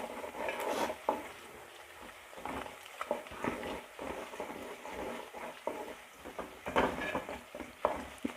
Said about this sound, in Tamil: 5 பச்சை மிளகாயும் சேர்த்து நல்லா வதக்கி விட்டுக்கிடுவோம்.